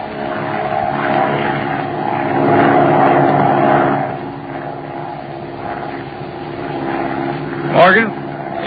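Propeller airplane engine drone in an old radio drama, a steady throbbing hum with tonal harmonics that swells and fades under spoken dialogue, with a brief rising whine near the end.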